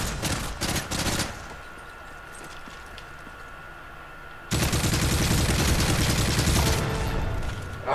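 Gunfire in the video game Call of Duty Modern Warfare 3 Special Ops: a few quick bursts of shots, a quieter stretch, then a loud sustained barrage of rapid fire.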